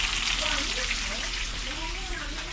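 Fish frying in a pan, a constant crackling sizzle of hot oil heard close and steady, with a voice talking faintly underneath.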